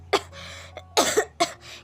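A short run of dry, close coughs: a sharp burst, a smaller one, then two stronger hacks in quick succession, over a faint low hum.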